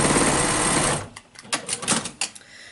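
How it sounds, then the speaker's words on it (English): A sewing machine runs a fast continuous stitching burst basting the raw top edge of a fabric face mask, then stops, followed by a few scattered clicks and fabric handling sounds. "I'm going to baste along the raw edge along the top"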